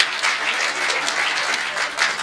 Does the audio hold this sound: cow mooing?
no